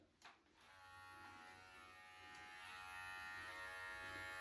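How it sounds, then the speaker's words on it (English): A steady Brio Beardscape electric beard trimmer buzzes close by, a constant high whirring tone after a brief click as it switches on. "That's the sound of the Brio Beardscape trimmer."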